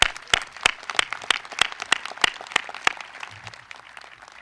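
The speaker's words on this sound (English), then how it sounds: "and for that I believe they deserve a round of applause." Audience applause at a high school graduation ceremony, a crowd clapping with sharp individual claps standing out over the dense patter, gradually thinning toward the end.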